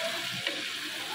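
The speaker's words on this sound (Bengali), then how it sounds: "আর এখানে হচ্ছে কড়াতে মাটন, আমরা দুই যা মিলে এখন এখানে রান্না করছি" Mutton frying in a kadai gives off a brief, close, steady sizzle and hiss.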